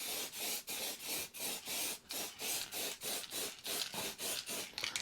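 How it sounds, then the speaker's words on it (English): A shaken aerosol can sprays clear gloss lacquer onto vinyl stickers in a rapid series of short hissing bursts, roughly fifteen in an even rhythm, close and steady with no talking. "just give these just a coat of clear gloss lacquer"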